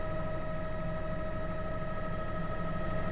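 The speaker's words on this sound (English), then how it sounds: "Let's go live to News Chopper 12, Matt Salemi." A news helicopter flying over a massive fire at a scrap metal company sends out a continuous, steady rotor and engine drone, loud and unbroken throughout.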